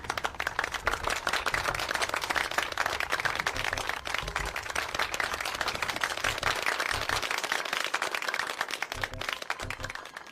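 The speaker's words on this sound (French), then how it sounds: "Je vous invite à applaudir chaudement Philippe." Warm, sustained applause from a crowd at an award ceremony, dense and continuous for about ten seconds at an even, moderate level.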